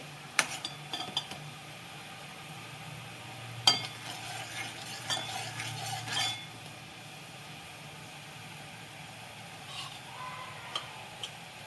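A spoon scrapes and clinks against a pan of boiling sugar syrup with a quiet bubbling simmer underneath, a few sharper knocks standing out; no one speaks.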